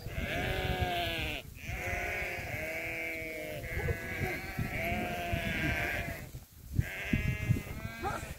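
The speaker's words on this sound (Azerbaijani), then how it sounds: "Super dağ keçilər." Mountain goats from a herd for sale bleat in overlapping, wavering calls close by, several animals crying in succession with short pauses between.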